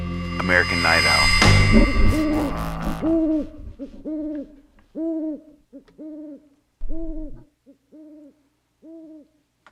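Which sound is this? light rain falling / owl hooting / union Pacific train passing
owl hooting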